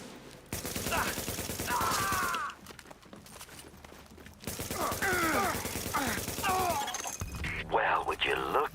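Gunfire in The Division, rapid crackling bursts and breaking impacts in a game firefight, heard under talking voices that come and go, with loud dense stretches broken by a brief quieter gap.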